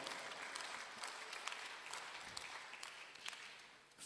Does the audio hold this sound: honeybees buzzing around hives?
no